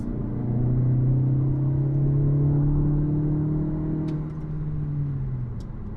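BMW 228i Gran Coupe engine just after a paddle-shift downshift from fifth to fourth gear, a steady low droning hum that holds level and then eases off near the end, heard from inside the cabin with no talk.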